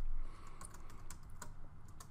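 Light keystrokes on a computer keyboard as a command is typed to save a sysctl configuration file in the vi editor. A few scattered, close taps and clicks sound over a faint steady hum, with no talking.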